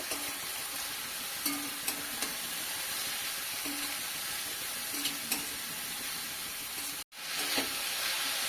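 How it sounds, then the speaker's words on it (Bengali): Thickly chopped cabbage frying in a pan with half a spoon of turmeric, giving a steady, close sizzle and hiss with a few light stirring clicks and a brief dropout near the end. "দিয়ে দিচ্ছি 1/2 চামচ হলুদ গুঁড়ো। কিছুক্ষণ ভেজে নেব।"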